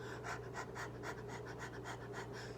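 A person imitates a dog's panting with quick, rhythmic breathy huffs, close and fairly quiet, repeating steadily with no talking.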